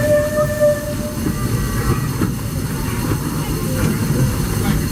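The Disneyland Railroad steam train C.K. Holliday No. 1 rolling along its track, a loud continuous rumble of wheels and carriages with faint squeals and rhythmic rail clatter, heard from on board with voices murmuring underneath.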